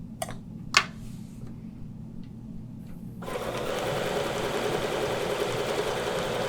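Domestic sewing machine stitching repeatedly over a center thread during quilting rulerwork, a steady close mechanical whir starting after a few quiet clicks and running continuously to the end.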